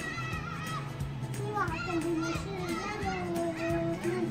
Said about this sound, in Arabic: هاي الاولاد هناك عم بيجروا.